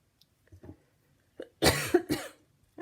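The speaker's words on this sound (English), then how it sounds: "I don't know why, sometimes I just get a cough." A short burst of dry coughs, two or three close together, loud and near after a moment of near silence with faint rustling.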